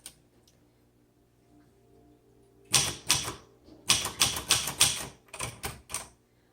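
Keys being struck on a 1963 Royal Royalite manual typewriter, a quiet start followed by loud, crisp clacks in quick irregular bursts, close up with no talk.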